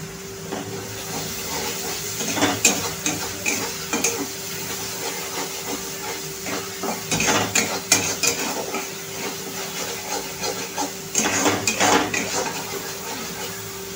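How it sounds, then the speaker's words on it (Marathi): Ginger-garlic masala with turmeric sautés in a pan over medium heat, a soft frying hiss under repeated scraping and clinking of a spoon stirring against the metal pan, with no voices. "छान 2 ते 3 मीडियम गॅसवरती 2 ते 3 मिनिटं परतून घेऊया।"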